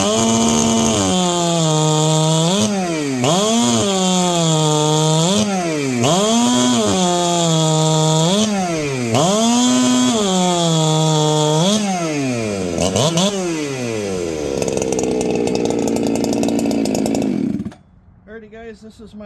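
A modified chainsaw with a radical pop-up piston build screams at full throttle, revving up and down in repeated bursts of about two seconds each, loud and close, then winds down and cuts off near the end.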